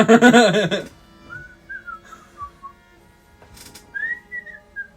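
A person whistles a short rising and falling melody in two brief phrases, fairly faint, after a loud burst of voices at the start.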